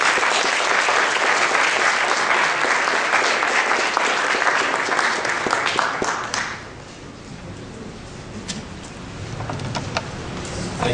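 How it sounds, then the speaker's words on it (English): Audience at a United Muslim Association of Toledo gathering claps loudly and steadily for about six seconds, then the applause thins to scattered, fading claps with a few louder single claps near the end. "we gotta give a strong applause to our brother,"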